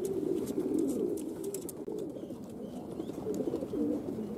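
Pigeons coo inside a pigeon loft, several soft overlapping low calls rolling on continuously at moderate distance, with faint rustling and a few brief higher sounds.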